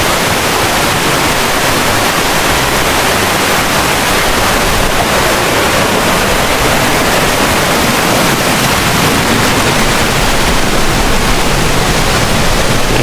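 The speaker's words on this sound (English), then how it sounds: "This is Slap Waterfall, which is 16 meters." A 16-meter waterfall at Plitvice Lakes, Croatia roars continuously at close range, a dense, steady wash of falling water filling the whole clip with no voices.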